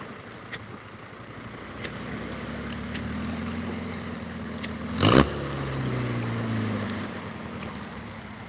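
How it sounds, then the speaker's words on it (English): A small squid fishing boat, powered by a naturally aspirated four-cylinder diesel, chugs offshore at a Thai beach at sunrise with a low rumbling drone under wind and surf, plus a brief louder burst midway. "Toyota or a Mitsubishi 4-cylinder naturally aspirated diesel engine just sitting on a mount"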